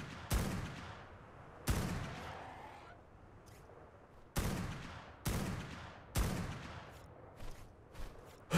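Shotgun blasts fired at vultures in ARK: Scorched Earth, five or six loud, separate booms with long decaying tails spaced a second or so apart, plus faint game ambience between them.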